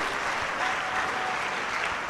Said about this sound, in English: Come on, put your hands together one more time.